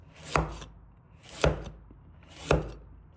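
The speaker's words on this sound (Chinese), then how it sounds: "把胡萝卜洗净后切成薄片，不用切得太薄，保留一点脆感" A knife slices carrots on a board in three distinct, evenly spaced chops, crisp and close with quiet pauses between them.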